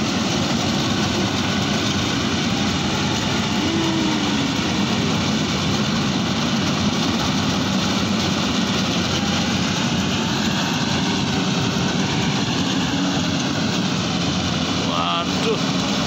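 An old Yanmar AW 82V combine harvester working a former swamp field, its engine droning steadily and loudly throughout at close range, with people talking over it.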